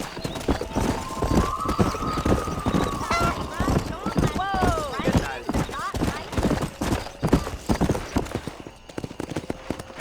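Horse hooves clip-clop at a steady riding pace in the Western video game Red Dead Redemption, with a whinny and a rider urging the horse on, all mixed under ongoing talk and game sounds.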